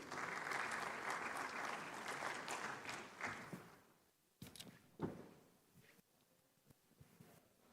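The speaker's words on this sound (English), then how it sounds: "Please give her a warm round of applause." Warm audience applause at a large international banking conference, dense clapping for a few seconds that quickly thins out and dies away, leaving a quiet hall with a few scattered knocks and rustles.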